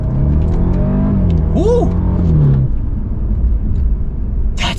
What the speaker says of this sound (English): let's get our real full-blown acceleration here